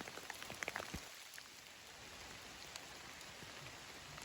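Rain falls steadily on a wooded hiking trail along the Foothills Trail in the Carolinas, a soft even wash of drizzle with a few faint nearby taps at the start.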